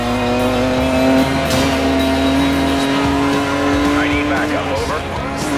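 Racing cars in Need for Speed: Most Wanted accelerate hard, engines roaring with rising revs and brief tire squeal, loud and close, with a voice talking over the engine noise.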